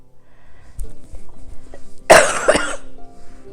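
One sharp cough bursts out close to the mic, followed by a quick second catch, against a quiet background with faint low hum.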